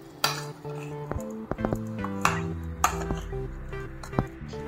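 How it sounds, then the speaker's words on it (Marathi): A spoon stirring a spice mix of oregano, black pepper and red chili flakes in a metal bowl, with several bright ringing clinks against the sides amid soft scraping, close and clear. "याला आता आपण छान मिक्स करून घेऊया"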